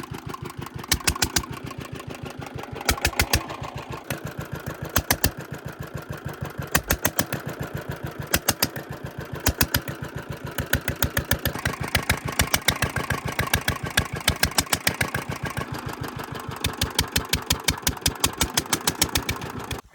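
A Peter engine runs steadily after starting, a loud, even, rapid chugging with regular exhaust beats that continues throughout, alone with no voices.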